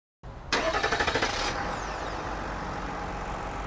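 The 3.0-liter inline-six Duramax diesel in a 2026 Chevrolet Silverado RST pickup cranks briefly and catches, flaring with a loud rattling burst before settling into a steady, close diesel idle.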